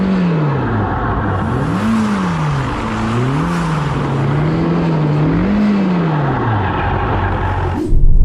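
A Ferrari Roma with stability control switched off does donuts, its engine loud and close, revs rising and falling in a wavering pattern over tyre noise, then it abruptly drops off near the end.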